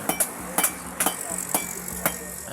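Hammer blows ring on hot metal during local hand forging, about six sharp metallic strikes in an irregular rhythm, some doubled, close and clear over a low steady furnace hum.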